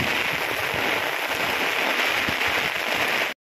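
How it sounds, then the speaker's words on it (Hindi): Heavy monsoon rain pounds a rooftop in a steady, dense roar of broadband hiss, loud and unbroken throughout with no voices over it. "देखिए तो बारिश कितनी ज़्यादा तेज़ है, ध्यान से देखो गाइस, बहुत तेज़ है बारिश"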